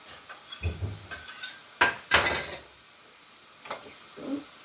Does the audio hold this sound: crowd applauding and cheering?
no